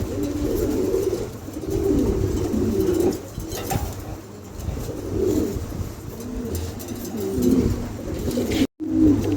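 Several pigeons in a showroom coo in repeated low, throaty phrases close by, forming a steady murmur that continues almost without pause, ending with a brief silence and a final coo.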